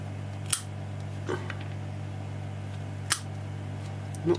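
Elliott Lucas PW 2163-10 pliers, cleaned up, cutting through cable: a few sharp snips at irregular intervals over a steady low mechanical hum, with no talking.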